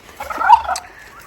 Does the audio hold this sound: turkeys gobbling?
yes